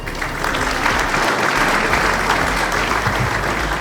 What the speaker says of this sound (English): Let's appreciate them with a thunder clap.